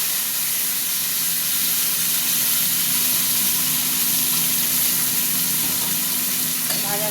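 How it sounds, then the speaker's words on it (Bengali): Onion and tomato dropped into hot oil for an omelette curry sizzle loudly and steadily close to the microphone, a constant bright hiss that lasts throughout without talking. "এই যে পেঁয়াজ টমেটো একসঙ্গে দিয়ে দিচ্ছি।"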